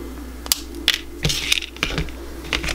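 Sharp little clicks of wire cutters snipping craft wire while shaping wire sunflower earrings, several separate snips and handling taps close up and quiet.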